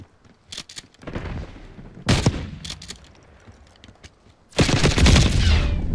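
Shotgun blasts and assault-rifle fire in Call of Duty: Black Ops 6, arriving in three loud, dense bursts separated by quieter gaps, the last burst heaviest and most sustained.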